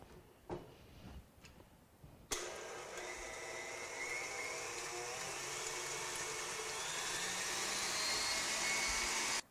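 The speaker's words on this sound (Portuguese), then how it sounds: "E nós vamos bater em velocidade alta por 4 minutos." An electric mixer runs at high speed, beating dairy-free marshmallow frosting for cupcakes. A steady, loud whirring drone starts after a few faint clicks and holds to the end, with no talk over it.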